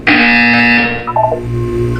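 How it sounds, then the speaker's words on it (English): In the Portal 2 video game, a loud, harsh electronic buzzer drones steadily for about a second. A short burst of garbled, wavering tones follows, then a low hum. "You will hear a buzzer."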